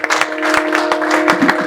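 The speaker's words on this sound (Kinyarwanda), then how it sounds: "Reka turikomera amashyi ntacyo bitwaye." A church congregation breaks into loud, dense applause. The clapping fills the space at close range and runs the whole time.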